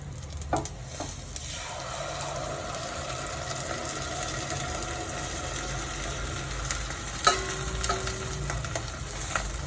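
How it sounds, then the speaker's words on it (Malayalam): Kalathappam batter poured into a hot pan gives a steady, soft frying sizzle that continues evenly throughout, with a few small clinks and pops. "ഇനി നമുക്ക് ഉണ്ടാക്കി വെച്ച ബാറ്ററി ഒഴിച്ചു കൊടുക്കാം"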